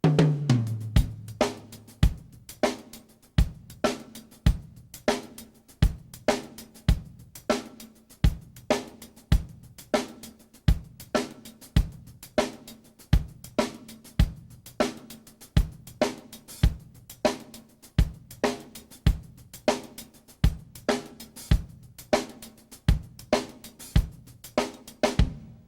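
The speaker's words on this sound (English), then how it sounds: "using the two hi-hats makes a really interesting effect, a sort of a stereo effect in the drum set." Drum kit playing a funk groove with two hi-hats for a stereo effect, crisp regular hits of kick, snare and hi-hat repeating in a steady tight pattern, close and alone.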